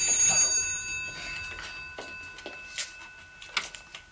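A telephone rings indoors with a short, bright bell burst at the start, followed by scattered light clicks and ticks in a quiet room, with no talking.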